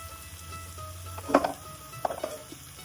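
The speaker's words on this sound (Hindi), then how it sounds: "अब इसमें मैं रोस्टेड मशरूम डालूंगी।" Roasted mushrooms dropped into a pan of frying masala, a soft continuous sizzle with two brief clattering stirs or scrapes of a utensil in the pan.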